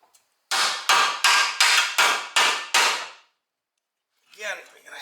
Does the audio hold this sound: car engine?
no